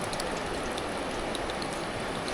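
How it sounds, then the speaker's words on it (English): Hail falls outdoors in Montana as a dense, even patter of small impacts, steady and moderately loud throughout, ending in a brief low thump. "It's hailing. Maybe I'll wait it out."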